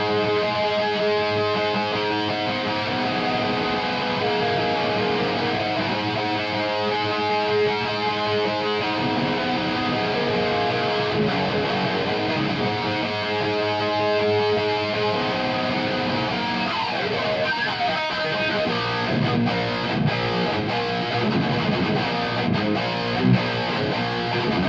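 Heavily distorted electric guitar through a VX Kraken pedal into a Marshall JCM 800 amp plays sustained, gritty chords and riffs at steady loudness for the whole stretch, with no talking.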